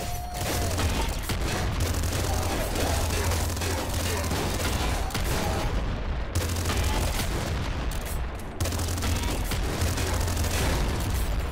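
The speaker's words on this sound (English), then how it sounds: "I forgot how fast the hyper rifle is when you just hold it down" A hyper rifle in the game Nuclear Throne firing in a dense, rapid stream of loud digital shots with booming impacts, nearly unbroken with two brief pauses, and a voice talking over it.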